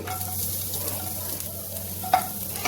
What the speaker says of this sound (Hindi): इससे तेल तुरंत गर्म हो गया। अब 1 स्पून के लगभग मैंने जीरा डाल दिया।